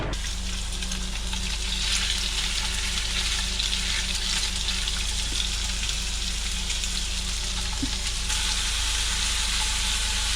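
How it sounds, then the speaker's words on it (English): Mackerel meat seared in olive oil in a pan gives a loud, steady sizzle and spatter up close, continuous for the whole stretch, with a few faint knocks of the pan and no voices. "I'm just gonna sear up the rest of this meat here."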